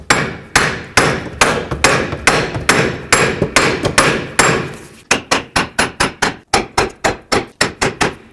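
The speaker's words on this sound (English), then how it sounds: "Now I'm just going to take a hammer and hammer this wheel bearing back and forth." Hammer striking a Toyota Prius front wheel bearing to drive it out of the steering knuckle: a loud, close run of sharp metallic blows, slower at first, then quicker and evenly spaced, with no talk.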